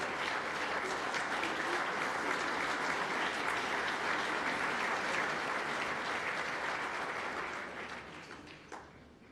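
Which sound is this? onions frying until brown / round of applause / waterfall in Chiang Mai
round of applause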